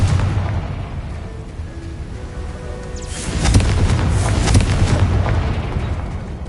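A Confringo fire spell blast from the video game Hogwarts Legacy bursts about halfway through as a loud, broad boom with crackling debris, trailing off into a sustained rumble over steady game ambience.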